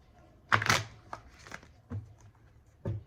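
Close tarot card shuffling: a loud riffling burst followed by a few softer card slaps and shuffles, no voices.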